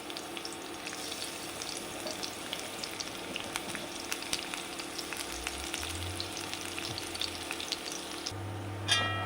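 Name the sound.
chopped garlic frying in ghee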